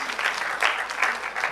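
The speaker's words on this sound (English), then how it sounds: "Applause, please." Audience applause at a conference in Jigawa State, a short, steady burst of many hands clapping together at close range.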